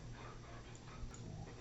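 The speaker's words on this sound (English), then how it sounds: "my dogs have decided to play" Pet dogs play nearby with soft panting, snuffling and faint whimpers over a low, noisy room background, with no one talking.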